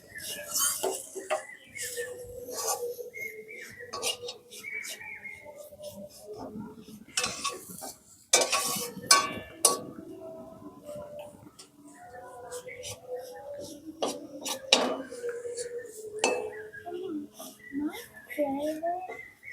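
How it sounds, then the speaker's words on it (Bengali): A spiced onion mixture for green banana kofta curry is fried and stirred in a pan, with repeated metallic scrapes and clinks of a spatula over a light sizzle while someone talks. "এবার এগুলো ভালো করে একসঙ্গে ভেজে নেব"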